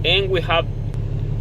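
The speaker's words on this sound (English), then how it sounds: "So when you start the engine, this happens." A Kenworth T680 truck with its original Cummins ISX engine, 657,000 miles on it and a 13-speed transmission, runs at a steady low idle. Someone talks briefly over the engine's drone.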